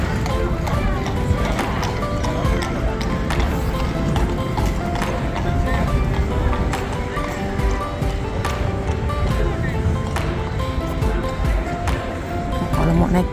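Horse hooves clip-clop on a busy square in Bruges, Belgium, a steady rhythm of clopping under a crowd's chatter and voices throughout.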